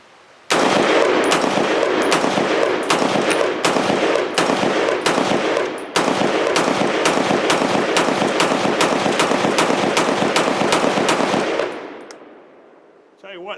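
Brownell's BRN-10 rifle firing Malaysian military surplus ammunition at a range: a long, rapid string of loud shots in steady succession, a brief pause near the middle, then continuing before stopping, with faint echo trailing at the end.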